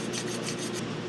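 A fine file rasps steadily against a woodturning tool's edge, a close, continuous scraping with quick regular strokes and no talk.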